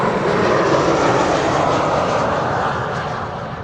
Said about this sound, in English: Another Britty hopper flying on behalf of KLM, arriving from Leeds, another Embraer 190.